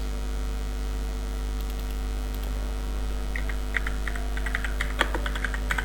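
Quick keystrokes on a computer keyboard, light clicks arriving in short bursts over a steady mains hum, close and fairly quiet.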